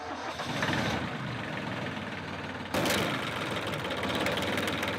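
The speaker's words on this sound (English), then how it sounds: "Ah, the sweet sound of stalling." A diesel engine, run with a universal engine starter, rumbles and churns steadily, then a louder surge kicks in partway through and keeps running roughly before stalling from running out of diesel.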